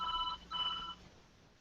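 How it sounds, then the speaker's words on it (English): A telephone rings in two bursts of bright electronic trilling, fairly loud and close, then stops, leaving a quiet room tone with no one talking. "go answer that phone, AW."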